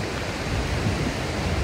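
A waterfall in Iceland roars as a steady, dense wash of rushing water, loud and unbroken, with no voices over it.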